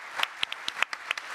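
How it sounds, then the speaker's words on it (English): Conference audience applauding speakers at an AI event, a short burst of scattered hand claps with distinct individual slaps, moderately loud in a room. "maybe a round of applause for our speakers"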